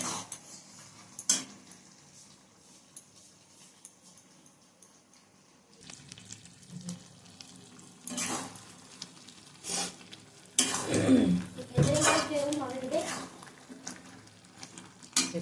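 Jujube pickle cooking in a pan, soft sizzling with intermittent scraping and clinks of a spoon against the metal pan, growing busier toward the end, close and without speech.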